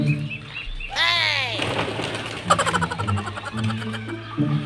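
Pigeons kept in a cage coo and flutter their wings nearby, with soft calls and a burst of flapping followed by scattered chirps and rustling.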